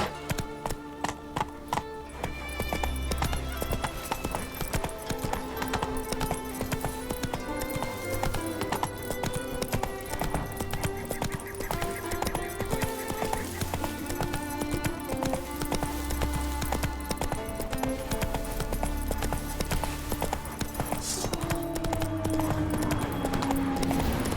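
Horse hooves clip-clop steadily on the ground in The Witcher 3: Wild Hunt, a regular trotting rhythm running throughout beneath an orchestral music score.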